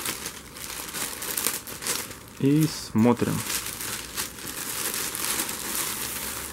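A plastic package of a Vfemage dress from China crinkles and crackles as it is opened, a few sharp rustles standing out, with a voice speaking briefly.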